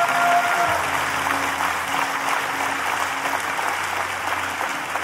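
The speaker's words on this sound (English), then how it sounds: "Clap your hands and give God praise" A church congregation clapping their hands in praise during a sermon, a sustained wash of applause with a low organ-like hum beneath, fairly loud and even.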